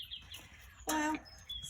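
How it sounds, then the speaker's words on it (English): A cockerel in a garden gives a short, strained crow, moderately loud, amid quiet outdoor background sound. "that poor old cockerel always crows day and night"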